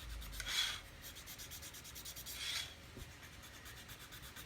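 A thin wooden skinny stick rubs glue marks off a plastic model kit part in two long rasping strokes, close and fairly quiet, with faint scratching between them.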